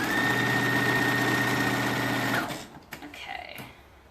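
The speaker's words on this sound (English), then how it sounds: "So I've just done a straight stitch across the short ends, right sides together." A sewing machine runs a steady, fast straight stitch across the short ends of a tank top band for about two seconds, close and even, then stops, leaving faint handling clicks.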